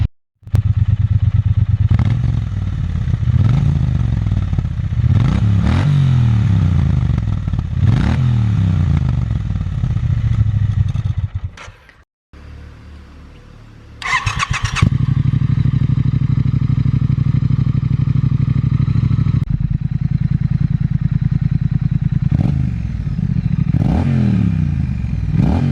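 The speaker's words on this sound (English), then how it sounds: "But just let it idle. Let the engine get a little heated up." Motorcycles idle as their engines warm up, each exhaust note a loud, steady, throbbing rumble up close, with a few revving swells and a short quieter gap in the middle before the engine sound returns.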